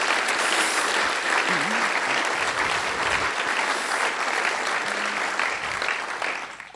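Applause for conference volunteers at a closing session: a large audience clapping continuously and evenly, dense and sustained throughout, fading slightly only at the very end.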